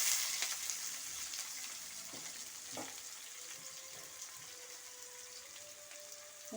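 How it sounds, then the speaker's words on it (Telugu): Onions sizzling in hot oil in a pan for chana dal and cabbage, a steady moderate hiss with a few soft clinks of stirring. "ఆనియన్స్ వేసుకుందాం"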